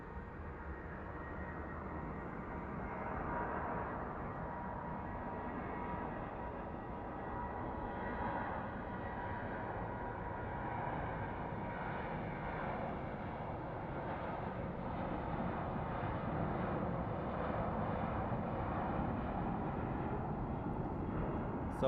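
Airliners at Phoenix Sky Harbor International Airport at night, a steady broad jet engine roar holding at constant loudness throughout, like aircraft taxiing or idling nearby with no talk.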